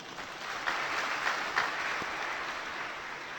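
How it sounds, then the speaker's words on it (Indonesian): Steady audience applause during a Buddhist Abhidhamma teaching session, continuous dense clapping at moderate level for several seconds. "Silakan tepuk tangan."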